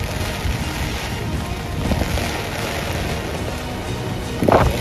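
Heavy typhoon rain pours steadily in Bicol, a dense continuous hiss with low rumbling underneath, and a brief louder gust or splash near the end; no one speaks.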